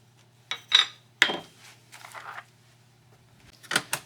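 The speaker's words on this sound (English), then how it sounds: "I'll just be tossing the screws in there" Screws tossed into a magnetic screw holder, a few short metallic clinks and rattles spaced apart in a quiet room, with soft handling noises between them.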